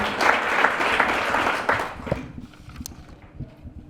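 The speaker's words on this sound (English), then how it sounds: "A round of applause." Crowd applause at a book launch fills the first two seconds, dense and steady, then thins into scattered claps and faint room noise.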